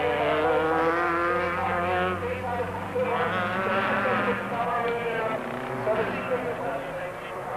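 Touring race cars, Haas and Chenoweth among them, scream around a circuit in a high, wavering engine whine that rises and falls as they pass, with commentary over the top.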